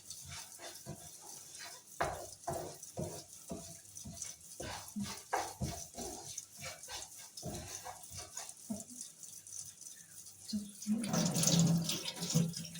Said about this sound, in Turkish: Ya sıcak su açayım da.